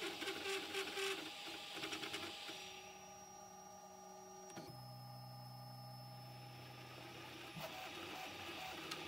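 A Prusa MK4 3D printer fitted with a pellet extruder runs nearby, its stepper motors whining and humming in shifting tones as the print head moves, with a steady mechanical drone underneath.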